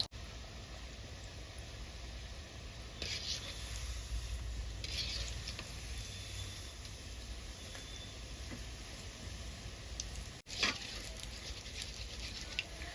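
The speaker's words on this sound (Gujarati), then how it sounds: "ફટાફટ હવે ગુલાબ જામુન ને તળવાનું સ્ટાર્ટ કરી દઈએ" Gulab jamun balls fry in hot oil in a pan. A soft, steady sizzle and crackle runs throughout at moderate volume, with occasional stirring and scraping and no talking.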